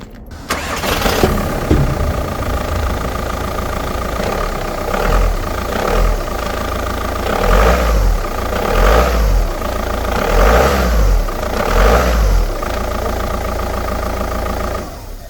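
A VW Golf Mk5 GT140 2.0 TDI diesel engine cranks and catches after an engine mount change, then settles into a loud, close idle with a rhythmic low throb and occasional slight revs.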